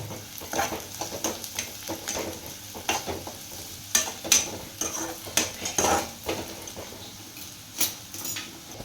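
Grated coconut roasting in a pan for shev bhaji masala, with repeated scraping and clinking strokes of a metal spoon over a soft, steady sizzle, close and clear, with no talking.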